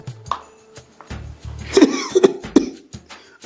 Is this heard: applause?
no